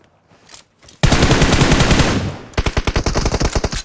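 Automatic gunfire in the mobile shooter PUBG Mobile during a firefight in the air: a faint shot or two, then a loud, sustained burst of rapid automatic fire, followed by a string of sharp, evenly spaced shots.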